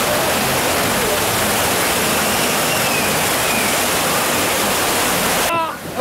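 Loud, continuous rushing and splashing water surrounds the listener as spray pours into a funfair water-ride boat, cutting off abruptly near the end.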